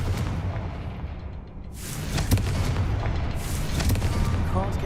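In the video game Hogwarts Legacy, a Confringo fire spell bursts into booming explosions over a continuous rumbling background of game noise, with sharper blasts toward the middle and end.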